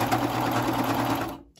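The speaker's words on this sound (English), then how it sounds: "I'm gonna go ahead and hand crank it a couple times just to make sure" A coverstitch sewing machine is cranked by hand, giving a brief run of quick mechanical ticking and whirring that stops abruptly after about a second and a half.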